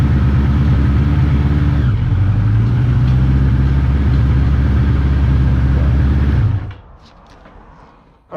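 A motor vehicle engine idles slightly high, steady and loud with a faint pitch shift partway through, then cuts off abruptly near the end, leaving quiet background.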